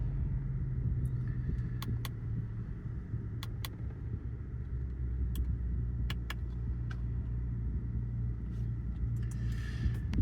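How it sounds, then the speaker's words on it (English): An Audi S5 Sportback 3.0 TFSI quattro engine idles with a steady low hum as revs settle down from fast idle, a quiet continuous drone heard alone with a few faint clicks. "So just dropping down off fast idle there."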